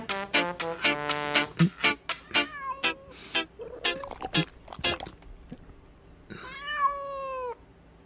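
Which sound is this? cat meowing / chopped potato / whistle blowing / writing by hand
cat meowing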